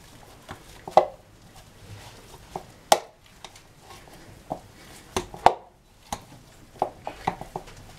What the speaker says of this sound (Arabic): تعالوا هنا بس نهرس البطاطس الاول مع بعض بالهراسة اليدوي